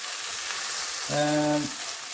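Onions cook in a covered pan with a soft, steady hiss of sizzling, and a brief tonal hum rises midway before fading back to the quiet frying.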